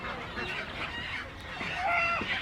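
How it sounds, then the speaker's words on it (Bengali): Ducks and chickens at a village poultry market in Fatullah, Bangladesh, make scattered quacks, honks and clucks over a dense, busy background of crowd noise. "ভাইয়ের কাছে দেশি মুরগিও আছে"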